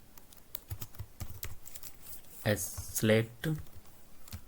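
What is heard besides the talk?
typing HTML code on computer keyboard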